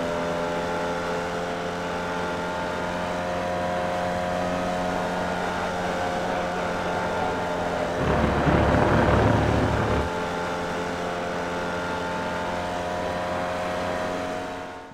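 A Formula Vee race car lapping Summit Point in iRacing, with a steady buzzing engine drone, a louder, rougher surge partway through, then a return to the even tone, heard alone.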